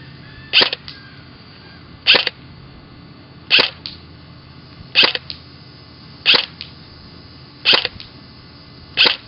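A VFC SCAR-L airsoft rifle fires 20-gram BBs through a chronograph, seven sharp semi-automatic shots spaced about every one and a half seconds, close and crisp with no talking.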